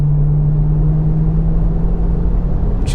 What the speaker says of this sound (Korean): 중점의 어떤 그 배기음이 꽤 크게 들려요